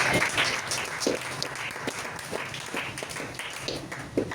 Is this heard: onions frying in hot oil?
no